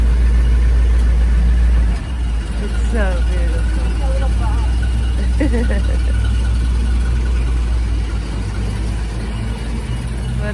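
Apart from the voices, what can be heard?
classic Chevrolet Bel Air engine as the car drives off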